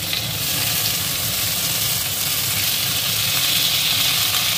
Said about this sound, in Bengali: দিয়ে দিলাম আদা কুচি, রসুন কুচি আর লঙ্কা কুচি। একটু লাল লাল করে ভেজে নেব